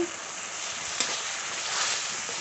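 Meat and spice masala sautéing in a pan with a little water, a steady soft sizzle running throughout with a brief clink of stirring near the middle.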